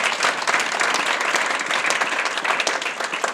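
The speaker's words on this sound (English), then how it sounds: "Give him a round of applause when you can." A hall of fame ceremony audience applauds a posthumous honoree with dense, steady clapping that fills the room evenly from start to finish, with no voices standing out.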